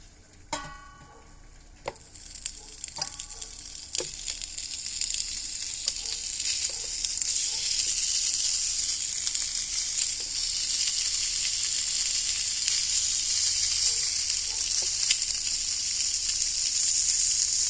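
A bun toasting on an outdoor griddle for a pulled roast beef and sausage sandwich, with a steady, close hissing sizzle that builds and holds. A few sharp clinks and taps of a utensil come early on.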